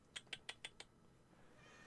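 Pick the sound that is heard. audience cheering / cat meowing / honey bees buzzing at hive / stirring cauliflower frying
cat meowing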